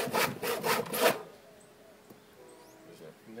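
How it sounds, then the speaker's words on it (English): A handsaw rasps through a wooden roof rafter in four quick, loud back-and-forth strokes, then falls quiet, leaving faint room noise and small creaks. "we can just use this handsaw to clean it up."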